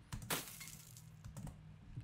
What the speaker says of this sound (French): Et le son du verre cassé va interrompre la musique.